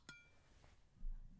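Glass from a water carafe set gives one sharp bright clink with a ringing tail, followed by a softer tap and a low thud.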